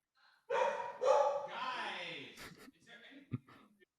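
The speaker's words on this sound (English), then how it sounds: "And my dog agrees. You can hear her, right? She's excited about it." A dog gives a few close, excited yelping barks and whines in quick succession, followed by quieter snuffling sounds.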